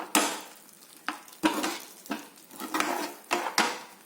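Prawn chilli paste fries in a pan for a Mangalore-style dish, with a soft sizzle under repeated scraping strokes of a spoon against the pan, several in quick, uneven rhythm, close up.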